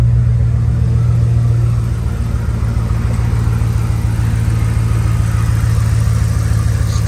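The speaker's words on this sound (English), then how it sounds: "with the engine running" A Ram 1500 pickup truck engine idles, a loud steady low rumble with an even mechanical hum, continuous with no talk.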